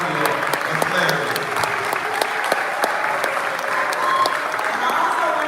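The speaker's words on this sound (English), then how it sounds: "But can we give a big Philly round of applause to Executive Director Tanya and Clarence?" A crowd at a community meet and greet claps enthusiastically, a thick continuous patter of hands with a few sharper individual claps standing out, close and fairly loud, with faint voices mixed in.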